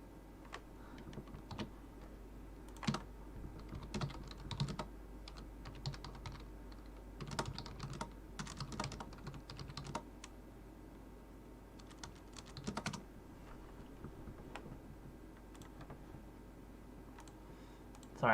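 Steady clicking of keys on a computer keyboard while messaging someone on Discord, light irregular bursts of taps running throughout, close and fairly quiet, with a faint hum underneath.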